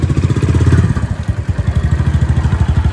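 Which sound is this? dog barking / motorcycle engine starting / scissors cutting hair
motorcycle engine starting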